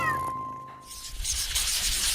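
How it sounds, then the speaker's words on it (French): A small pet cat gives a brief meow at the start, followed by soft rustling and broadband hiss in a home kitchen where food is being prepared; no one speaks. "Et mon petit chat aime beaucoup se promener."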